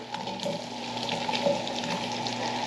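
Potatoes sliding into hot frying bacon fat in a pan, a steady crackling sizzle with small pops and light stirring scrapes, close and moderately loud with no talking.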